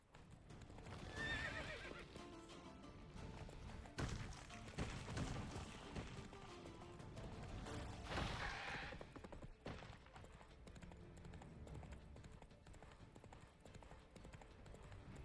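Roach, a horse in The Witcher 3, neighs loudly twice amid steady galloping hoofbeats, with a rumbling game soundscape underneath.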